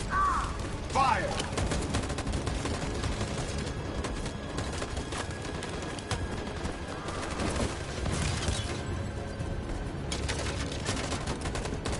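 Sustained, dense gunfire in the video game Detroit: Become Human, loud and close, a continuous crackling fusillade with occasional heavier bursts across the whole stretch and brief voice fragments buried underneath.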